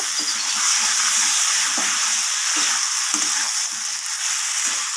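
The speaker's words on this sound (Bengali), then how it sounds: "এবার সব কিছু আবারও ভালোভাবে আমি কষিয়ে নেব" Fried potatoes sizzle loudly with hilsa fish curry and brinjal in a hot pan, a constant close hiss broken by repeated scraping stirs of the spoon.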